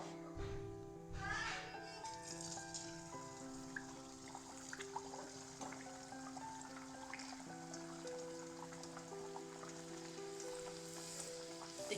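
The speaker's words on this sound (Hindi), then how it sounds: "एक बेर बेसी के नहीं देबै, 1टा 2टा का पूरी दऽ कऽ छानब।" Puris fry in hot oil in a kadhai, a soft steady sizzle and crackle under background music, quiet and continuous throughout.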